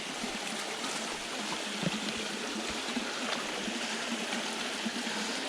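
Creek water runs steadily over slippery rocks on the Collins River in Tennessee, a continuous broadband rush and trickle close by, with no talk.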